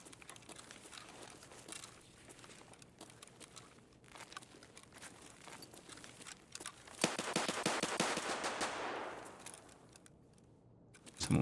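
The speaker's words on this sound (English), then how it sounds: "Someone with the shotgun just killed that man." Shotgun fire crackles during an Escape from Tarkov raid, heard from a distance: scattered sharp cracks build into a dense rattling burst, then fade, with one loud hit at the end.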